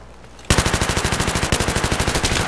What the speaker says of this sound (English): Quit shooting shit at me!